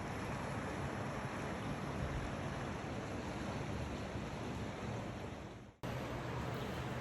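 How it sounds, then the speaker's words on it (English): A river flows outside a hotel room in Helen, Georgia, its steady rushing water continuous without pause, a broad wash of noise that cuts off briefly near the end. "Sit out here and listen to the river flow."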